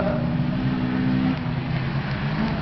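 A Honda race car engine roars at high revs during a Fol'Car race in Bourges, its pitch holding and then shifting as it accelerates, loud and close with no talking.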